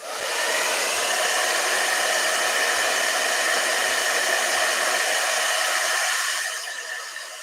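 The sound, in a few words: blow dryer running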